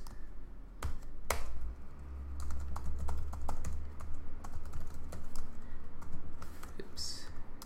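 Steady typing on a computer keyboard while writing Java code in a text editor, with rapid close clicks running throughout and a few sharper, louder key strikes standing out.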